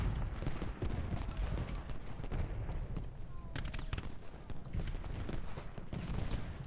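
Musket volleys in a Gettysburg battle from Ultimate General: Gettysburg, as a dense, faint, continuous crackle of distant rifle fire with scattered sharper shots, alongside some voices.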